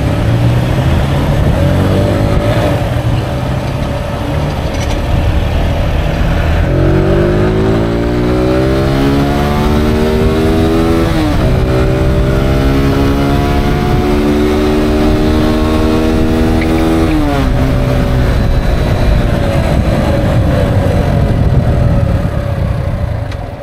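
Kuba TK03 motorcycle with a new carburetor riding through road traffic, engine revving up through rising gear pulls and easing off, loud and close with steady wind and traffic noise around it.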